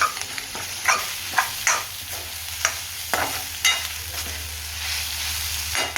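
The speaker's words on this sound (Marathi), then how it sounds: "इकडे भेंडीची भाजी मी बनवती आहे" Okra (bhindi) fries in a pan with a steady sizzle, broken by repeated scraping stirs of a spoon at an irregular rhythm, close and clear with no talk.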